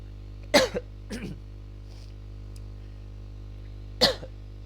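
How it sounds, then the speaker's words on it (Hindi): Two sharp coughs close to the mic, a softer throat-clearing sound after the first, then another cough a few seconds later over a steady hum. "मेरे को खांसी आ रही है"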